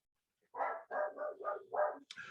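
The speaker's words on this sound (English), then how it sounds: "he's not going to stop barking" A dog barks several times in a quick run, five close, fairly loud woofs in a row, then a short yip at the end.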